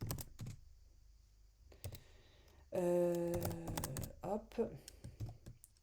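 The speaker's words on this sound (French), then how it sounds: "Si je daigne taper ça correctement" Code typed on a computer keyboard during a programming session, a burst of close, quick clicking keystrokes in irregular clusters, with someone speaking briefly at one point.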